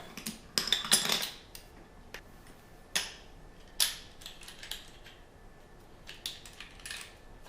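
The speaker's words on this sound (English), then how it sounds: "And throw the old tri-clamp on there." A metal tri-clamp is fitted over a silicone gasket onto the end cap of a brewing and distilling electric element, giving scattered sharp metallic clicks and clinks with quiet gaps between them.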